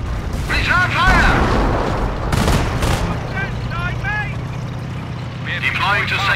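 Gunfire and booming artillery from a Company of Heroes battle during Operation Market Garden at Arnhem's last bridge, with bursts of shots and blasts running throughout under shouted game voice lines and chatter.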